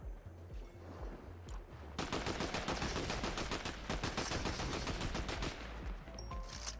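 In the video game Fortnite, quieter shooting gives way to a dense stretch of rapid, repeated gunshots firing in quick succession, like sustained automatic fire, at close range.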